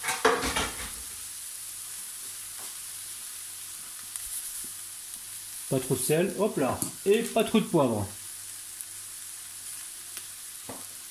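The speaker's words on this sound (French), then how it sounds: "je vais mettre un petit peu d'huile à chauffer, une bonne cuillère à soupe, et je vais mettre donc mes champignons" Mushrooms fry in a tablespoon of hot oil in a pan while being seasoned for a chicken fricassee, giving a steady close sizzle with occasional utensil clinks under brief French speech.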